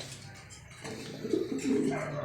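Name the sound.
bird cooing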